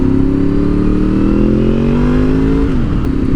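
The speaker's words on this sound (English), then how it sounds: "That little V4 groan." A Honda VFR V4 motorcycle engine pulls hard nearby with a loud, rising, throaty drone that climbs steadily in pitch for about three seconds before dipping briefly at a gear change.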